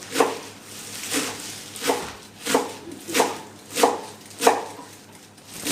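Knife chopping herb stalks on a board, about nine crisp, evenly spaced cuts in a slow steady rhythm, close and clear against a faint background hum.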